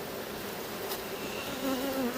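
Honeybees on an aggressive hive, stirring as a frame is lifted during a queen-acceptance check: a steady, dense, close buzzing of many insects with slight rises in pitch, heard alone.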